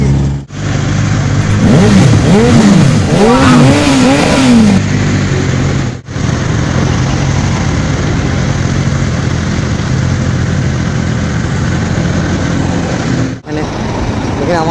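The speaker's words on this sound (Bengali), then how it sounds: "সাউন্ড দেখছো দাদার গাড়ির খালি" Superbike engines at a toll plaza meetup, with a BMW S1000RR and a Kawasaki Z900 present, rising and falling in loud revs before settling into a steady rumbling idle nearby, with voices talking over it.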